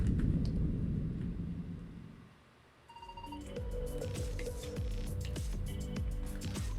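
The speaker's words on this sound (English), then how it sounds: "That noise you just heard came from Moldeka." A deep rumbling, squelching roar from the sea creature Moldeka in the video game Loomian Legacy swells loudly, dips to a near-silent lull, then returns as a droning mechanical groan with beeping tones layered over it.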